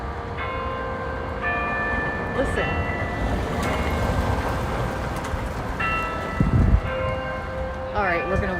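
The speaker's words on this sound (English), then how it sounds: "Oh, and look, they're playing the bells just as we're walking down here." Church bells ring out in New Orleans, several sustained tolls sounding in succession at moderate distance over street ambience, with a brief spoken word and light footstep noise during a morning walk.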